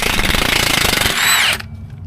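A power tool loosens a 7 mm bolt on the differential of a 1999-2007 third-generation Mitsubishi Montero/Pajero during a 4.9 LSD swap. It is a loud, close, rapid hammering rattle that runs about a second and a half, then cuts off to quiet.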